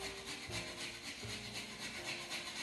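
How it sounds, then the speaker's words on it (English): Raw potatoes rubbed against a hand grater for potato pancakes, a quiet rhythmic rasping scrape repeating in short strokes, close and alone. "This is how you're going to use the hand grater. So grate them like that."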